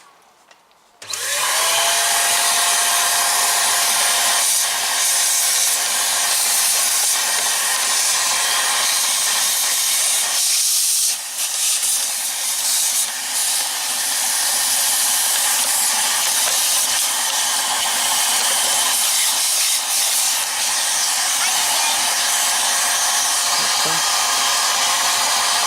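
A JML Dust Daddy vacuum cleaner attachment runs on full suction, giving a loud, steady, broadband whooshing roar that starts abruptly after a second and holds nearly constant to the end.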